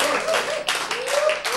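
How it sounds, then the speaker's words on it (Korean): Applause from a church congregation during an Old Testament sermon, a loud sustained clapping that swells and dips in waves, with a preacher's voice under it. "여러분이 박수도 한번 크게 쳐보고"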